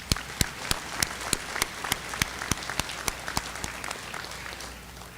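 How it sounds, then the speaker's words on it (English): Graduation audience at a high school ceremony claps a round of applause for the parents, a steady patter of hands with crisp individual claps standing out throughout. "I would like to pause and give a round of applause to all of you"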